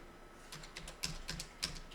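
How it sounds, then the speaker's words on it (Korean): Quiet, close keystrokes on a computer keyboard in a series of light, uneven clicks and taps lasting about two seconds, with no talking. "자, 일단 이렇게 타이핑을 한번 해보세요."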